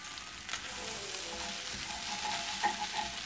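Salmon fried rice is mixed in a frying pan, a steady close sizzle running throughout with soft scraping and stirring from a utensil.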